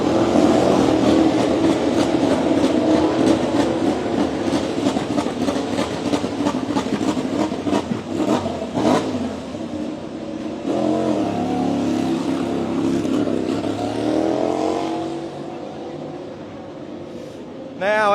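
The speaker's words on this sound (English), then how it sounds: "Just let you enjoy the noise in pit lane for just a moment." MotoGP race bikes leaving the pit lane at the Qatar Sprint race, engines revving and blipping in rapid bursts as machines pass and pull away, loud and close at first and easing later, with a commentator talking over the noise.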